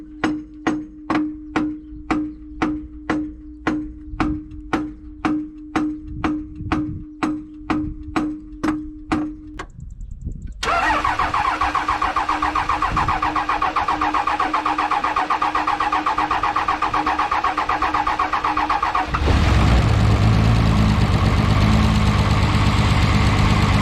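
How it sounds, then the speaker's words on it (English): A 2004.5 Dodge Cummins truck with a stuck starter cranks in a fast, even series of loud whirring pulses for about ten seconds, then a continuous harsh grinding whine runs on, ending in a deeper, heavier rumble. "my starter's stuck"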